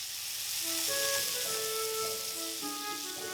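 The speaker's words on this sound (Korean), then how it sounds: "프라이팬에 기름을 두르고요. 소세지를 먼저 굽습니다." Thin sausage slices fry in an oiled pan, giving a steady bright sizzle and hiss, with faint tonal ringing sounds over it.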